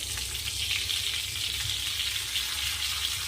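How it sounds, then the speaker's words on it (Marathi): Green chillies fry in hot oil with a loud, steady sizzle that stays close and continuous, with no talking over it. "तेल तापलं मी थोडं टाकून पाहिली होती मिरची आता आपण मिरची ॲड करू यामध्ये"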